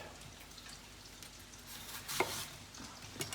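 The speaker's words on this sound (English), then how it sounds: "we've got the butter melting over here quickly already" Butter melting in a pan for apple cinnamon oatmeal gives off a faint, steady sizzle, broken by a couple of brief clatters from the pan.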